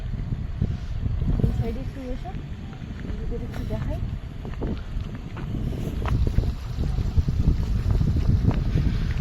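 North wind blowing across a riverbank in the Sundarbans, beside an eroding shore where boats work nearby: a steady, gusty low rumble buffets the microphone for the whole stretch, with faint voices in the background.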